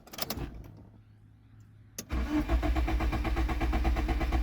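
Nissan Sentra with one spark plug pulled, a starter whirring and clicking briefly, a pause, then cranking resumes as a steady rhythmic churning that runs to the end without catching.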